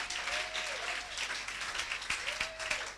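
A church congregation applauds in dense, continuous clapping at a Christian prayer service for the sick, with voices calling out over it.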